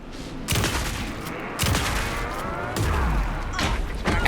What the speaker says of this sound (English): Anderson, pin him down with gunfire for me to get the light on.